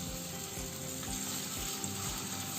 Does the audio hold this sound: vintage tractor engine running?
no